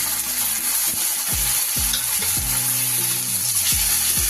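Onion paste sizzles in hot oil in a pan for a Bengali nyados fish curry, a loud steady frying hiss broken by repeated scraping stirs at a slow, irregular rhythm.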